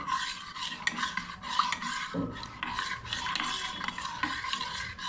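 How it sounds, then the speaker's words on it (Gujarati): A spoon scraping and stirring through a vegetable and leftover roti curry in a pan, a steady rasping rub that repeats in short strokes, close and alone. "હા, ને આપણે ચમચીથી હલાવી નાખવાનું છે."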